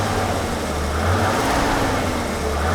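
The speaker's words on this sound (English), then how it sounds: "I can't believe how well this engine works." A BMW E21 323i engine runs steadily and continuously up close, a low rumble with a smooth, even drone and no pauses, alone with no voices.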